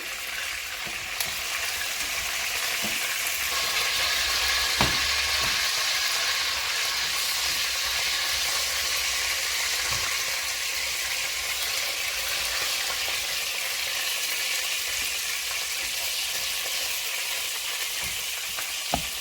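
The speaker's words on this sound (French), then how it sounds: "On va mettre l'huile dans la marmite et faire frire le poulet." Continuous crackling sizzle of chicken frying in hot oil in a pot, steady and close, with occasional sharper pops.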